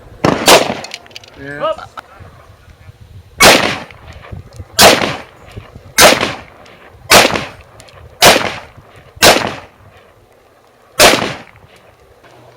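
Eight loud, sharp 5.56 NATO rifle shots fired at snowboards outdoors, evenly spaced about a second or two apart, each with a short echoing tail; a voice makes brief exclamations between the first shots.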